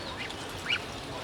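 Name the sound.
Chinese ducks quacking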